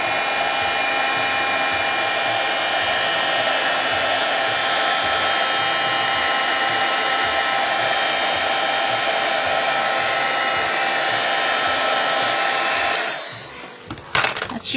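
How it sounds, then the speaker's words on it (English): A heat tool blows steadily to set ink on a card-making scene, a loud continuous whirring hiss that runs unbroken before cutting off near the end. "I'm going to heat set this just a little bit"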